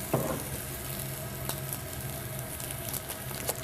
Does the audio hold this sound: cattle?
no